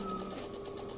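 Sewing machine stitching a patchwork quilt block, a steady close mechanical hum with a fine rapid needle rhythm running throughout the short moment.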